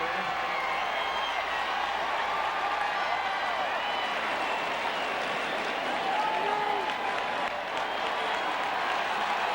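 A partisan Auburn home crowd at a college football game against LSU applauds and cheers in a sustained, roaring wash of clapping, with an announcer talking over it.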